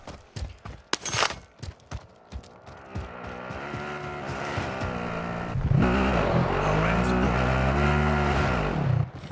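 A car driven in a video game, engine revving and droning steadily with tire noise, preceded by a few sharp clatters and knocks, growing louder and rougher in the second half, with no talk over it.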